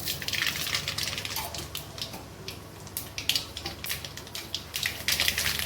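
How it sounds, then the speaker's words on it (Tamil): Mustard seeds popping and spluttering in hot oil at the start of a roasted semiya (vermicelli) dish, a busy stream of small crackles and fizzing sizzle that persists close up, with no one speaking. "கடுகு நல்லா பொரிஞ்சிருச்சு."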